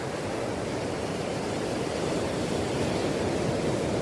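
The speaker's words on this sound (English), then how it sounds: "that is the sound of the sea at night" Night sea surf gives a constant broad rushing roar, loud and unbroken, with no distinct wave breaks and no talking.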